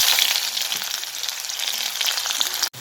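Onions sizzle and fry steadily in hot mustard oil with cumin and bay leaf, a dense, even hiss that carries close and continuous, cut by a brief break near the end.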